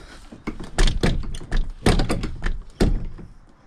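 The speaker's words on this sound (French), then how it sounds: "J'arrive plus à ouvrir ma porte." A stuck van door being forced open: a series of repeated thumps, knocks and rattling clunks of the door, close and fairly loud, with no talk.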